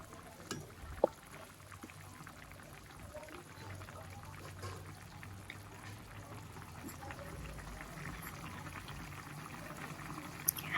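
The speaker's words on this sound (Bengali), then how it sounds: "দেখেন ফুটে গেছে" Mola fish curry bubbling at a low simmer in a pot, a faint steady seething hiss with soft pops throughout, quiet and close.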